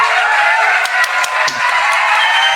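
Audience applause after a comedic poetry set, a steady wash of clapping that holds loud and even throughout, with a few sharper individual claps standing out.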